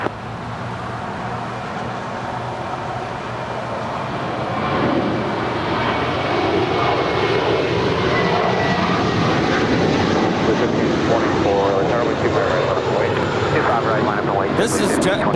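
A United airliner takes off from LAX runway 25 right, its jet engines roaring in a broad, steady rumble that swells partway through and holds loud to the end, with voices talking over it.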